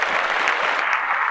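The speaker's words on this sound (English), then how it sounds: "Let's clap the Bills up." A small group claps steadily for the Buffalo Bills, a dense, close burst of hand claps with no pause.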